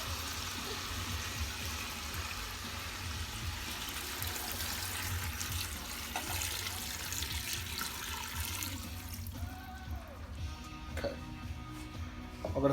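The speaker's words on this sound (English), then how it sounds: "I'm going to start adding the water" Tap water runs steadily into a pot while making homemade chicken soup in a home kitchen, a continuous rushing splash that shifts slightly in tone as the pot fills, with no talk over it.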